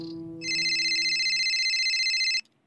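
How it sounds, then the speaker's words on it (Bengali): A phone ringing with a bright, electronic trill that repeats steadily for about two seconds, clear and close, then cuts off abruptly into near silence. "ফোনটা বেজে উঠল"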